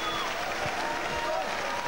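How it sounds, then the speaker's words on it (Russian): Crowd applause after a kickboxing match between Buakaw and Marco Pique, a dense, steady roar of clapping from a large arena audience, with a commentator's voice faintly underneath. "заслуженные аплодисменты."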